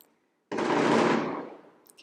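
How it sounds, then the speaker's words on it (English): Fireworks going off outside at night, a sudden crackling burst after silence that sustains for about a second then fades, heard from indoors at moderate distance. "that's fireworks."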